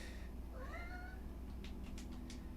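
A house cat meows over a steady low hum, a couple of rising, drawn-out calls in the first second, followed by a few faint clicks and rustles.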